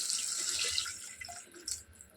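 A short burst of water splashing and pouring close by into a cooking pot of softened tomatoes, trickling unevenly for a couple of seconds before tapering off, with no talking.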